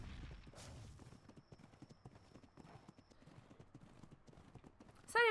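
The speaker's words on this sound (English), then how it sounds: "I just like the atmosphere of running across all this land on a freaking horse" Horse hooves gallop in a steady, rapid clip-clop rhythm in the video game Ark: Survival Evolved, on the Ragnarok map, moderately close, ending in a sudden louder whinny-like burst.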